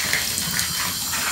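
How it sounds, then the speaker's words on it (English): Hot water running from a bathtub faucet, a steady close hiss and splash of flowing water, loud and continuous without pause. "Let's turn on the hot water."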